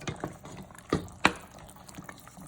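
Juice from canned ingredients pours into a pot of Mexican-style chili with soft liquid splashes and drips, along with a couple of sharper clinks from the can or utensil.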